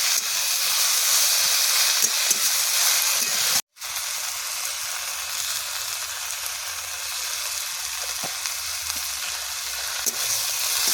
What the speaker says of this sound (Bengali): ভালো করে কষিয়ে নিয়েছি, শাকটাও জড়ে গেছে।